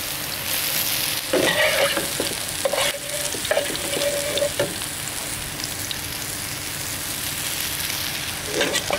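Cooked potatoes being sautéed Lyonnaise-style in a hot pan, with a steady close sizzle and intermittent scraping, clattering stirs of a utensil against the pan.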